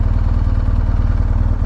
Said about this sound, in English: you can let it sit there and idle for a little bit